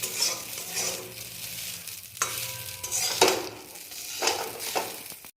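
Plain homemade chowmein noodles are stirred and tossed in a sizzling frying pan, with close, uneven bursts of spatula scraping and clatter over a steady hiss.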